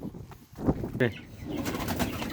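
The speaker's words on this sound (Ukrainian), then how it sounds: "Купили голуба." A pigeon coos in a dovecote, low throaty calls close by amid soft rustling, with a brief flutter and no talk.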